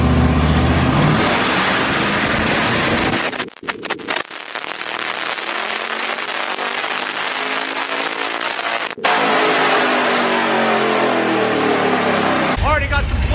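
A car engine revs hard on a dyno, a loud, roaring run with rising pitch sweeps, brief cut-outs and popping bursts, with voices talking over it.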